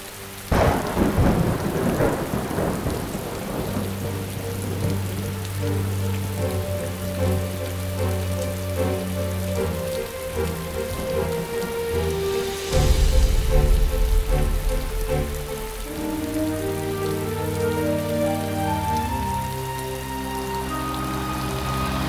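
Steady heavy rain pours on surfaces, with thunder rumbling through it and a louder crack of thunder partway through, while a low music score plays underneath.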